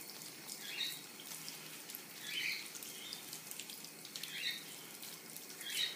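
Natural-bristle makeup brushes rinsed under a running tap, producing a faint, steady water hiss with a few brief higher splashes and no voices.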